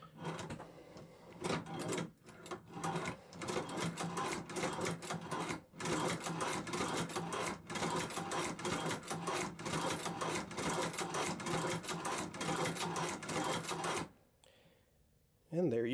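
A hand-cranked leather sewing machine runs in a steady mechanical clatter of repeating stitches, close and loud, for most of the span. A few brief pauses break it, and it drops to near quiet at the end before restarting.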